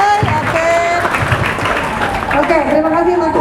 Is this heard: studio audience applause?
yes